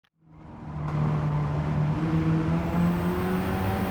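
A Mazda RE Amemiya FD3S RX-7 rotary engine winding up under throttle at the Nurburgring GP circuit in a racing game, building from quiet to a loud sustained whine whose pitch climbs steadily.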